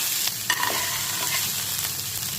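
Curry leaves, ginger and chillies stirred in hot oil in a pan, a close steady sizzle with scraping spoon strokes and soft clinks breaking through the frying hiss.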